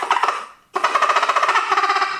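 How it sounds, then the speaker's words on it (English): Turkey gobble call blown with pressurized air, giving a rapid, pulsing, buzzy squeal that breaks off briefly and resumes, loud and close with no voices. "I tried to blow pressurized air and it squealed"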